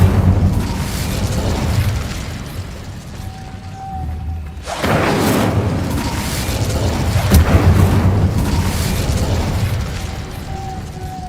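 The Incendio fire spell is cast in Hogwarts Legacy, giving loud fiery blasts and bursts, a big whooshing surge midway over a steady rumbling game background, with no speech.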